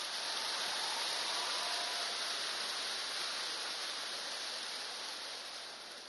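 An audience applauds, a steady wash of clapping at a talk on marriage, holding evenly and then fading slightly at the end.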